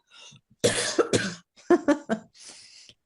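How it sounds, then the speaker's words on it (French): Several sharp coughs come in two quick clusters, close and fairly loud, followed by a breathy exhale. "ça me fait tousser"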